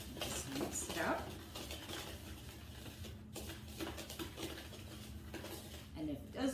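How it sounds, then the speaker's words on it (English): Pumpkin snickerdoodle cookie dough mixed with egg in a bowl, soft scraping and knocking of a utensil against the bowl, quiet and uneven with faint kitchen clatter. "So just eggs seem to bind everything, so just mix it up."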